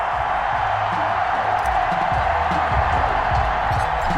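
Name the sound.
stadium crowd cheering in Madden NFL 21 video game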